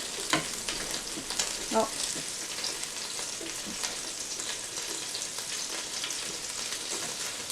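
Homemade meatballs sizzle steadily on a Ninja Foodi grill while being flipped, with soft scraping and tapping knocks over the constant hiss; a brief exclamation is heard.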